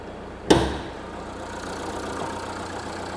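A 2-litre Jeep turbo diesel car engine, rated 173 bhp, catches with one sharp start-up burst, then settles into a steady, low, even idle that carries on to the end.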